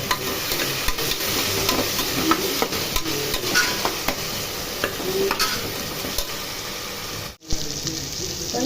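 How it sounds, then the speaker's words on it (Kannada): Tomatoes cooking in a pan with turmeric and salt give a steady close sizzle with scraping stir strokes throughout, dropping out for a brief moment near the end. "ಅರಿಶಿನ ಮತ್ತು ಸ್ವಲ್ಪ ಉಪ್ಪನ್ನು ಹಾಕ್ಕೊಂಡು ಟೊಮೆಟೊನ ಬೇಯಿಸ್ಕೊಬೇಕು"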